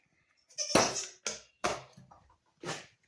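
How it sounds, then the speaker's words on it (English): A goat in a barn gives four loud, harsh bleats close by, each one separated by a short pause, with no talking. "Goat's over there in the corner throwing a hissy fit for some reason."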